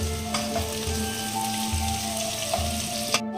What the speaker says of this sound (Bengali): এই যে পেঁয়াজটা একটু ভাজা ভাজা হচ্ছে